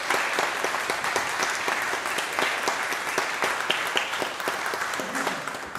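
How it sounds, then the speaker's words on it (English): Audience at an annual meeting applauding steadily, a dense continuous wash of clapping hands sustained throughout at fairly even loudness, with individual claps popping out of the crowd. "will you stand to give them a round of applause"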